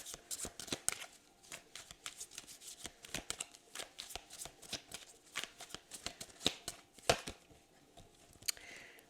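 Tarot cards riffled and handled close up for a single card pull, a steady run of quick papery flicks and snaps with a few sharper slaps, alone without talk.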